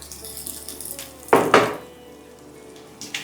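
Bay leaves and whole spices including star anise hit hot mustard oil in a pan, giving two quick bursts of loud sizzle that fade to a faint crackle, with another small sizzle at the end.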